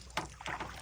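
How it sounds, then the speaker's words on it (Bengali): Oars work the water as Belayet Sarder rows a wooden boat along a Sundarbans canal, with a short splashing stroke close by over faint wind and no talk. "পেছনে নৌকা বাইছেন আমাদের বেলায়েত সর্দার"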